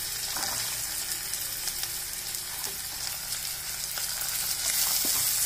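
Onions with garlic, ginger, fennel and curry leaves sauté in a pan for a Chettinad prawn gravy, a continuous bright sizzle with occasional soft spatula taps.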